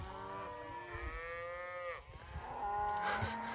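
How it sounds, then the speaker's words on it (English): Cattle being moved on a hot day low repeatedly, with several drawn-out moos overlapping, fairly close and clear over a faint outdoor background. "the boys brought the cattle through"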